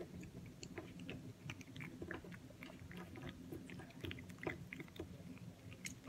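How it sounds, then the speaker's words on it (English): Quiet, close-up wet chewing and crunching of a cat gnawing bones, irregular bites continuing steadily with no voices. "If you guys hear that, they're chewing. It's my cat."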